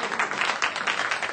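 An audience claps during a city council study session, a brief, dense patter of many hands at moderate loudness, with faint voices underneath.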